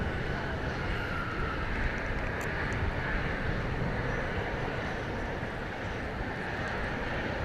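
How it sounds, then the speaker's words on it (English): American Eagle passenger plane taking off from a DFW Airport runway, a steady loud jet roar with broad rushing noise that holds throughout, heard from nearby. "You might have heard the plane right behind it has already been cleared for takeoff even before this one got off the ground."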